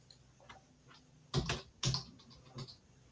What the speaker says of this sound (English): Demonstrating to the world how poor my typing skills are.